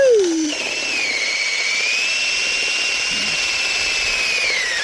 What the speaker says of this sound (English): This is actually drilling a pretty clean hole